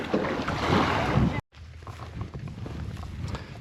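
Water splashes and washes close around a kayak as the waves pick up, with wind noise on the microphone. A brief cut near the middle is followed by softer lapping.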